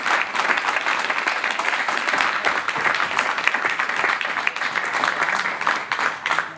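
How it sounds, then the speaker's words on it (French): Sustained audience applause fills the room at a steady, even intensity, dense clapping from many hands without a break, close and loud throughout. "prenez un applaudissement pour Marie-Christine de la Victoire"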